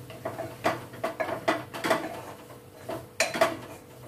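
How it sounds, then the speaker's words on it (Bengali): Spices being stirred in a pan while cooking a Bengali fish curry with ridge gourd and potatoes, giving repeated clinking scrapes of a spoon against the metal pan in an irregular rhythm, close and moderately loud. "দিয়ে সবকিছু ভালো করে নেড়েচেড়ে মিশিয়ে নিচ্ছি।"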